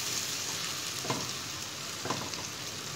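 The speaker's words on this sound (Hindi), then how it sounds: "लहसुन अदरक की अच्छी तरह फ्राई कर लेना है ताकि लहसुन अदरक की स्मेल जो है ख़त्म हो जाए" Garlic and ginger paste frying in a pan, a steady close hiss and sizzle running throughout, with a couple of soft stirring scrapes.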